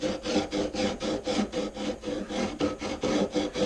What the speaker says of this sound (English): I'm just really just taking this file and going along here, trying to open it up a little bit.